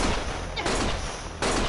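Gunfire in the video game Lost Judgment, with dense, loud bursts of shots that rattle continuously and swell again near the end, close and harsh throughout.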